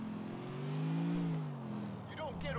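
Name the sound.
car driving in video game Grand Theft Auto IV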